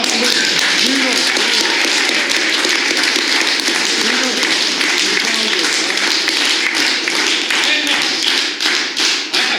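An audience applauds at a poetry evening with poet Makvala Gakharia at the Writers' House, a dense, loud wash of many hands clapping that carries steadily throughout and thins slightly at the very end.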